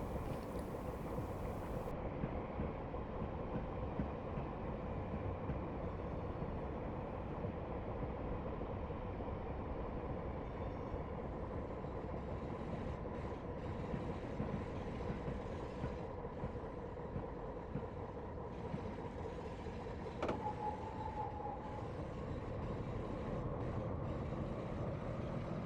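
Train running in Train Sim Classic on a South Wales coastal line near Newport: a steady, continuous engine and rail rumble that holds unbroken throughout, with a brief higher tone partway through.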